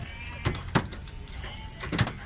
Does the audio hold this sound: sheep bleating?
yes